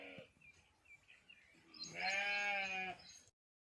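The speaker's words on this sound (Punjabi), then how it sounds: "ਕੁਰਬਾਨੀ ਵਾਲਾ ਭੇਡੂ ਹੈ।" A sacrificial ram for Qurbani gives one loud, drawn-out bleat close by, after a few quieter scuffling sounds, in hot summer weather.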